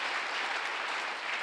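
A church congregation applauds loudly and steadily, with dense clapping throughout and no speech over it.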